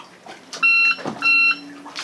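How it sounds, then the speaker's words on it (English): A boat's electrical system sounds two loud, clear electronic beeps after the power is switched on, each about a quarter second long, with faint background noise between them. "Wait for about 10 seconds until you hear the beep."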